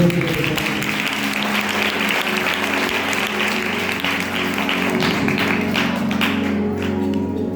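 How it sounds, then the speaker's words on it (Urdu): Loud applause fills a church gathering, a full dense clapping from many people held at steady strength across several seconds with a sustained low tone beneath it. "زوردار تالیاں"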